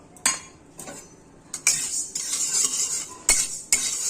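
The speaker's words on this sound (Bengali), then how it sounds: "এই যে কাঁচা ডালগুলো এবার হালকা করে ভেজে নিব" Raw golden moong dal being lightly dry-fried in a hot wok, with spatula scrapes, clinks against the metal and a bright rattling hiss of grains in short bursts, close and moderately loud, no talk.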